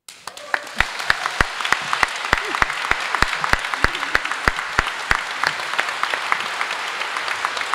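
Applause from the audience at a literary award gala, a string of loud, regular claps standing out over a softer crowd clapping that fades toward the end.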